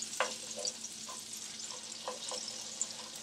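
Thinly sliced red onion sautés in a pan, giving a soft, steady sizzle with light stirring scrapes and a few brief clicks of a utensil against the pan, close and moderately quiet.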